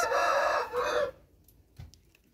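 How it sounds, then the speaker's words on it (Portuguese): A rooster crows loudly and close by, one drawn-out call lasting about a second before fading into quiet with a faint soft knock afterward. "O galo, o galo não deixa eu falar."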